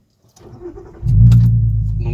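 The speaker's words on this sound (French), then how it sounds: "au ralenti, on l'entend, la caisse, c'est quand même pas mal" A Volkswagen Golf R32 with a single exhaust silencer fires up and settles into a deep, steady idle, a loud low rumble that holds after a brief starter whir, with a voice heard faintly.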